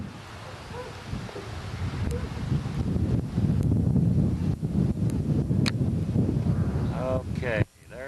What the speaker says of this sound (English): The wind's gonna blow us off if we don't hurry up and get out.